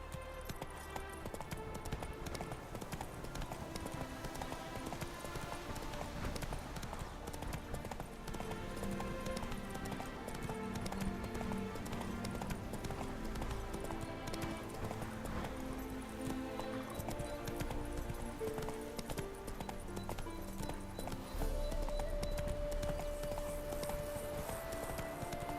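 Hooves of Roach, the horse in The Witcher 3: Wild Hunt, clopping in a steady rhythm across the whole stretch, set against a dense bed of game music, with no voices over it.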